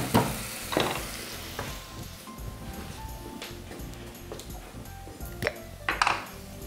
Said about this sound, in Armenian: Այս պահին առաջարկում եմ սոխը համեմել զիրայի սերմերով